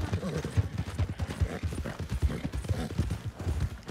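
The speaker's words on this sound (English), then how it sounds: "Damn wild horses. Gotta watch out for them." Quick, rhythmic hoofbeats of a wild horse at a trot or gallop in a video game, steady and fairly close, with a busy background.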